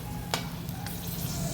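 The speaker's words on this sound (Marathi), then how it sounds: "तुपामध्ये बदाम छान भाजून घेऊया." Almonds sizzle and fry in hot ghee, a steady crackling hiss broken by the sharp scrape of a spoon stirring the pan, close and clear with no talk.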